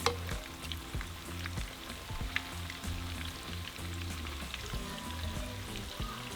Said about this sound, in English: we're going to flip them over to the other side so the other side can fry it as well